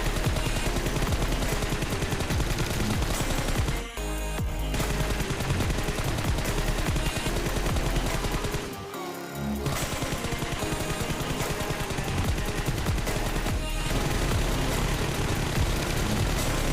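Gunfire in the mobile shooter BGMI, fired with red dot and 2x to 6x scopes while standing, crouching and prone: loud, dense, continuous automatic bursts broken by two brief pauses.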